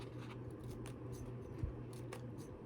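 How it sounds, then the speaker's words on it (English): Scissors snipping fabric close to the stitch line of a machine-embroidered baby bib, a series of quiet, close, crisp cuts at an irregular pace, no speech. "don't snip the stitch line, but just kind of close to it"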